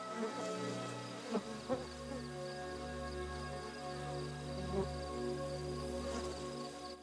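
Dense, steady drone of many honeybee worker wings inside a hive, a continuous close buzzing with a few brief louder passes near the start and later on.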